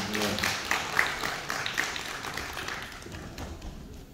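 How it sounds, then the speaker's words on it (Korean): Applause from a small audience after a live acoustic guitar performance at a village culture festival, scattered claps of moderate loudness that slowly thin out and fade. "여러분 많은 박수 주십시오."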